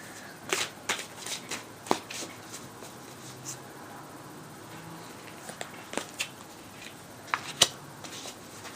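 Archangel Oracle cards being handled and shuffled at a tarot reading, a string of soft close papery slaps and riffles in irregular bursts over a quiet room, no voices.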